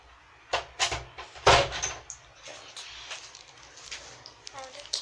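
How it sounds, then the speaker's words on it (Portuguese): A door is pushed shut indoors, a few knocks and a firm thud followed by lighter rattles, with a person talking over it. "deixa eu só fechar a porta aqui."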